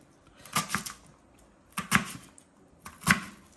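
A knife chops onions on a board in three quick clusters of sharp taps, each a few rapid strokes, close and clear with quiet pauses between.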